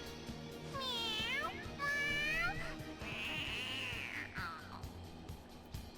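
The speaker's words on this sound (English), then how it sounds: "Yeah, those are cat noises" Morgana, the cat character from the video game Persona 5, lets out a series of drawn-out meows and a wailing caterwaul, clear and fairly close, over a low background hum.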